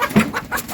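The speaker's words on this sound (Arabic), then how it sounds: "هنا هم ماسكين الديل بيضرب فيهم اهو" A rooster attacks hens in a mixed poultry pen, and the chickens answer with a rapid, rhythmic run of close, loud clucks and squawks.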